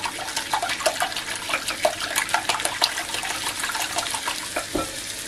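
Eggs beaten with a little water being stirred in a bowl: a steady run of close, light clinking and sloshing strokes throughout, with no talking.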